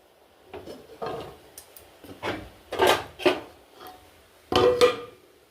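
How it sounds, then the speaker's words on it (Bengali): A lid goes onto a pot of simmering chicken on the stove: a few close, short clattering knocks and scrapes spaced over several seconds, with no voices. "এবার এটা ঢাকা দিয়ে দেবো"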